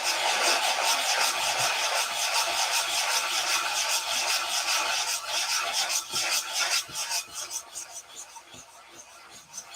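Sandpaper rubs back and forth over a model airplane wing in steady rasping strokes, close and continuous, growing choppier toward the end.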